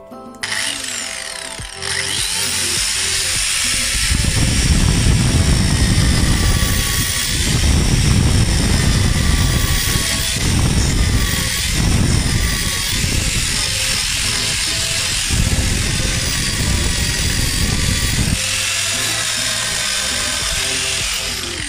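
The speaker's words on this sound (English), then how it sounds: "This is going to cut a groove a lot more like a V chisel." Electric multi cutter with a Manpa triangle V-tipped cutter grooving wood: a steady high motor whine starts after a brief pause, joined by loud, rough cutting noise in repeated surges, close up, with no talking.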